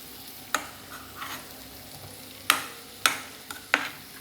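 Fish roe sautéing in oil in a pan, a low steady sizzle punctuated by several sharp spatters and pops, close and alone without talk.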